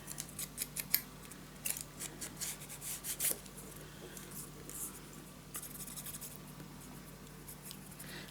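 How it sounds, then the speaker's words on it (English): Scissors snipping a piece off paper for a scrapbook mini album, a series of quick, close, crisp cuts in the first few seconds, then soft rustling and handling. "Place a mark and then just cut this piece off."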